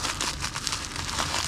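Bubble wrap is unwrapped from a mailed package, giving a quiet, brief stretch of close crinkling and rustling with small crackles.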